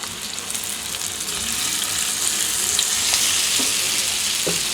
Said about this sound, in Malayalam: ഈ വെളിച്ചെണ്ണ നന്നായിട്ട് ചൂടായി വരുമ്പോൾ നമ്മൾ മിക്സ് ചെയ്ത് വെച്ചിട്ടുള്ള നമ്മുടെ കൂന്തൽ നമുക്ക് ഇതിലോട്ട് ഇട്ട് കൊടുക്കാം